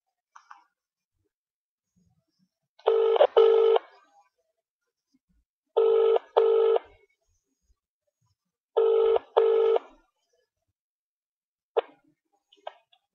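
Phone tones sound in three paired bursts, each about a second long, spaced a few seconds apart. They are loud and clear with no talk over them, and short clicks follow at the end as a call goes through to a mobile.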